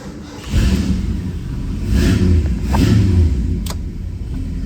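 A 1970 Ford Torino GT 429 engine turns over and catches, then revs up and down in a few swells, with a rough low rumble throughout.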